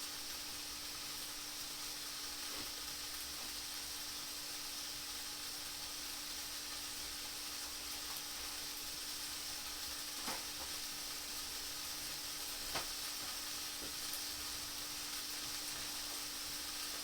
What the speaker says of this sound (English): I like the way it fried too. Frying out perfectly.